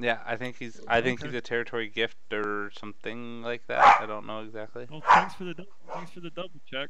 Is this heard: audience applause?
no